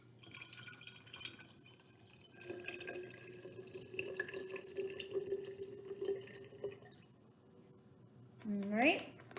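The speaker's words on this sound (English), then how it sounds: "So I am going to very carefully fill my bottle a quarter of the way with some water." Water trickling and dripping into a bottle being filled a quarter full, with someone talking over it, ending in a short pour whose pitch rises quickly as the bottle fills.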